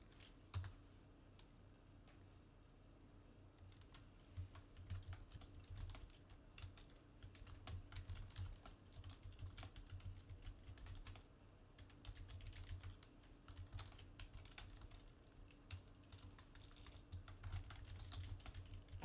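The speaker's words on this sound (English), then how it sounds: "I know there's a lot of clickety clacking." Close-up computer keyboard typing: quick, irregular bursts of clicky key presses with short pauses, fairly quiet throughout.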